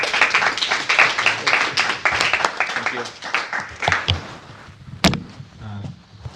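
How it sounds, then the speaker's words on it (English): Scattered clapping at a hackathon demo session mixes with loud chatter and speech, the applause uneven and fading out, capped near the end by a sharp bang like a door slam. "Let's give a round of applause."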